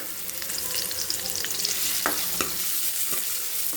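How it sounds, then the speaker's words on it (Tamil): Onions sautéing with rock salt in a pan for a goat intestine curry, a constant close sizzle punctuated by brief spatula scrapes and taps. "வெங்காயம் வதக்கிடலாம். 2 உப்பு கல் போட்டுக்கலாம்."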